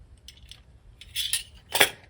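A catfish fillet is cut and dropped into a bowl: faint, close metallic clinks of a utensil against the dish, with two brighter taps near the end and no voices.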